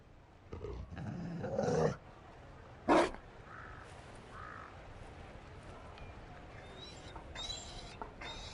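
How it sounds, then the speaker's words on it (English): A Mabari war dog in Dragon Age Inquisition gives a few short barks and growls, loudest in a burst near the start and a sharp yelp midway, over quiet game ambience with faint chimes later. "You found a dog."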